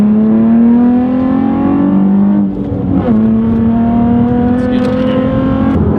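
Nissan 350Z fitted with a cold air intake pulls hard in second gear, its engine note climbing steadily in pitch, dipping briefly at a shift-like break, then rising again, loud and close from inside the car.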